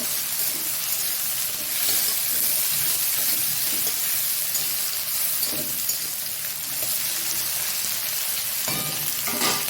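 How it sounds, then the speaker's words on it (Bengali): Bitter gourd slices frying in oil in a pan make a steady, close sizzle and crackle with occasional stirring scrapes, running throughout without talk. "উচ্ছেগুলো একটু ভাজা ভাজা হয়ে গেছে"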